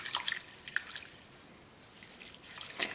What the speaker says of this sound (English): I'm going to add fresh water once more to these sprouts. I'm going to again give it another swish.